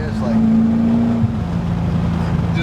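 BMW E30 coupe with a swapped M60B44 V8 and mild steel exhaust, a deep steady engine drone holding loud and close, pitch dipping slightly midway as the revs settle.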